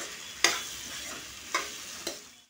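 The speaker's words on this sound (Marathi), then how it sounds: "इथे मी सर्व भाज्या कढईमध्ये घालून घेते आणि छान अशा भाज्या पण फ्राय करायच्या त्यामध्ये" Vegetables frying in a kadhai, a soft continuous sizzle broken by three sharp scraping stirs of a spoon against the pan, quiet and close with no voices.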